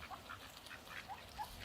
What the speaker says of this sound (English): So it's goodbye from the ducks on this side of the river.